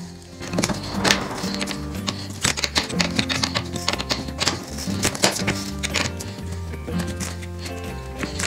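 Screws being tightened on a Ryobi 18V brushless 40 cm cordless lawn mower, a close series of sharp clicks, ratcheting ticks and small metallic knocks in an irregular rhythm.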